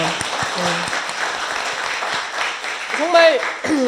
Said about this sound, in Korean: 우리 모두 뜨거운 박수 한번